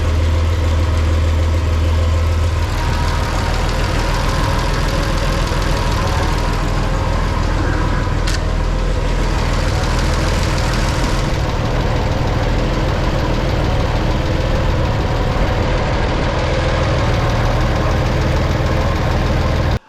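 Farmall 460 tractor engine idling steadily up close, a loud continuous low rumble with a knocking mechanical texture, unchanged throughout with no talking.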